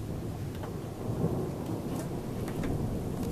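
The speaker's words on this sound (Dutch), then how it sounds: "Een hele grote bliksem van een hele grote wolk." Thunder from lightning during a thunderstorm, a deep sustained rumble with rain hissing steadily around it, moderately faint and even throughout, heard from indoors by a window.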